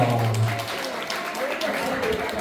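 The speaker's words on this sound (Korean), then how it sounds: "다시 한번 큰 박수 부탁드리겠습니다" Applause at a child's first birthday party, a crowd clapping together for the birthday boy, moderately loud and continuous, with a voice heard briefly at the start and under the clapping.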